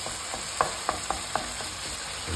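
Wine sizzles and evaporates in a hot pan with sardines, a soft steady frying hiss with a few light crackles and stirring taps, heard alone at moderate distance.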